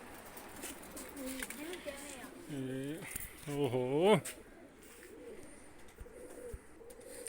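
Kane-breed pigeons coo in soft, rolling bursts close by, mixed with a voice and some handling noise in the background.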